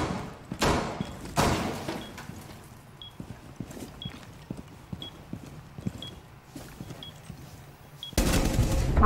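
Shotgun pistol blasts in Rainbow Six Siege, a couple of heavy booming shots early and a loud burst near the end, with sharp clicks and scattered thuds in between.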